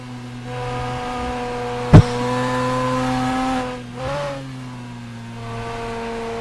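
A HOSS Fast 8 race car engine drones steadily at high pitch, with a sharp bang and a quick rev blip as it downshifts, then settles back into a sustained roar.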